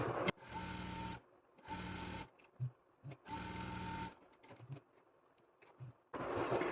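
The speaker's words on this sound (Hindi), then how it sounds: "सेम इसी तरीके से हम अपनी दूसरी सिलाई भी इस पे कंप्लीट करेंगे, क्योंकि ये कार्गो वाले पैंट पे हमारी डबल सिलाई होती है पॉकेट पर।" A sewing machine runs double stitching on a cargo pant pocket, with several short, steady whirring bursts separated by quiet pauses and small handling clicks.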